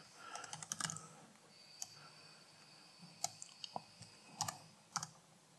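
Typing on a PC keyboard while working with a C64 disk setup: scattered quick keystroke clicks in small bursts, close and fairly faint, with quiet pauses between and no voice.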